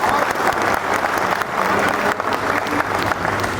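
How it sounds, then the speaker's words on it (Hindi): Sustained, dense applause from a large audience at a Hindi poetry gathering in Agra, steady and loud throughout with no break. "किश्तों में ताली बजाने से अवरोध भी होता है।"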